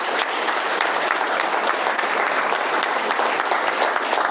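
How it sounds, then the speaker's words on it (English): Crowd at a retired workers' conference breaks into sustained applause, a thick, even roar of many hands clapping, close and loud, with no speech on top. "you guys give them a round of applause"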